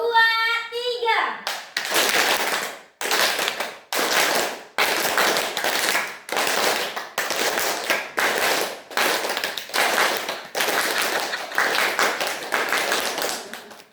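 A class of schoolchildren claps in unison, following a teacher's count, with a dozen or so sharp, evenly spaced claps. A brief voice comes just before the claps begin.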